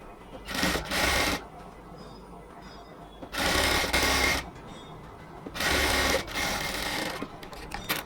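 A sewing machine stitches lace onto a kameez sleeve in three loud bursts of rapid stitching, each lasting about a second. Quieter pauses fall between the runs.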